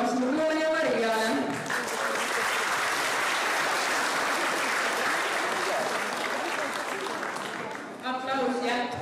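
Sustained audience applause at a school playback show for performers Loon and Maria, loud and steady for several seconds, with a voice talking over it at the start and again at the end.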